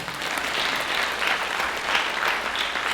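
A church congregation claps steadily and fairly loudly, a dense sustained applause with no voices standing out.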